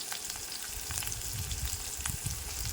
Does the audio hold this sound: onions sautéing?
yes